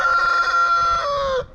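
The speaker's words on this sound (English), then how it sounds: "So our roosters have been over here 5 days." A rooster crows once, loud and close, in a single long drawn-out call that falls in pitch at the end, with no talking.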